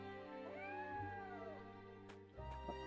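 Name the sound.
cat meowing in video game Triangle Strategy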